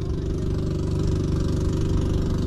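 A motorcycle engine idles close by, a steady low mechanical rumble with a faint knocking pulse running unbroken and fairly loud throughout.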